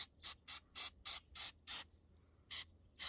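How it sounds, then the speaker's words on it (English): Throttle body and air intake cleaner sprayed onto the throttle body of a Hummer H3 in short hissing aerosol bursts, six in quick succession, a pause, then two more, loud and close with no talking. "Take the throttle body and air intake cleaner and I'll just kind of start a pre-soak."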